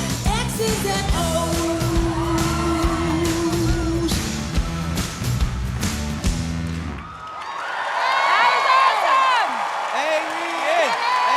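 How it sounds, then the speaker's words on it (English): A studio audience at a masked singing competition roars, yelling and whooping loudly over the final bars of a song, with the cheering carrying on strongly after the music cuts off. "You got the crowd going crazy and everyone on their feet."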